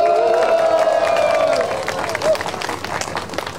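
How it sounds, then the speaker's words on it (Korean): Crowd at a civic rally for the Yeongdong World Gugak Expo cheering and clapping, a loud shout with sustained applause that fades into scattered clapping, while a person briefly speaks. "큰 함성과 박수 부탁드리겠습니다"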